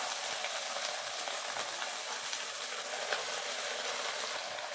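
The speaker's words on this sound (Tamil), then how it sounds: "கீரையை சேர்த்துட்டு கீரையை லைட்டாக இந்த மாதிரி தள்ளி தள்ளி வதக்கணும்" Spinach stir-frying in hot oil with mustard seeds and chillies gives a steady, close hiss of sizzling with soft scraping stirs, constant in level and free of talk.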